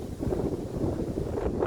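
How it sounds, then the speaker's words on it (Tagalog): Heavy wind buffets the microphone in a constant low roar, with a faint rumble of water or a boat underneath. "Lakas po ng hangin dito"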